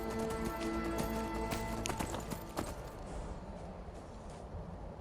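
Hooves clip-clop at a steady galloping pace over a bed of game music in Skyrim, loud and close, with the music thinning partway through.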